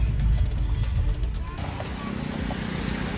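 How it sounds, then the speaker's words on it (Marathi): A car's engine rumbles low and steady as it slows and pulls over to the roadside near Lonavala's dried-up lake, a close continuous drone filling the clip. "1 मिनटात आता उतरवतो, गाडी साईडला घेतो."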